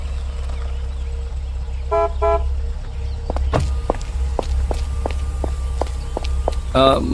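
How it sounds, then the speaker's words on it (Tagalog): A car pulls up and sounds its horn in two short double toots, then a series of sharp footstep-like clicks follow over a low engine rumble, laid under a narrating voice. "nakita naming dumating ang sasakyan ni Aling Petra"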